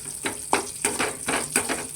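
Chili powder sizzling and crackling in hot oil in a pan, close and fairly loud, with rhythmic bursts as it is stirred.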